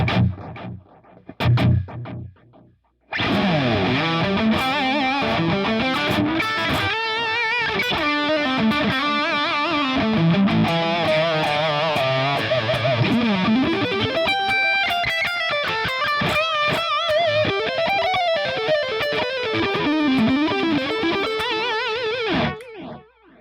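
Distorted electric guitar through a stereo transistor tape delay on a Line 6 Helix plays a melodic line with repeating echoes trailing each note, after a few short plucked notes at the start.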